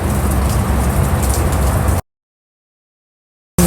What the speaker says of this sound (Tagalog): So ayan, lumakas ang ulan